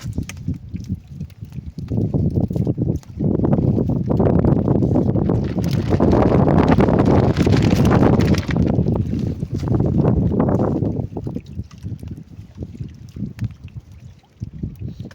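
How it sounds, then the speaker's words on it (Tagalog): Strong, gusty wind in bad weather roars and buffets the microphone, swelling loudly through the middle and easing off toward the end. "Sobrang lakas ng hangin"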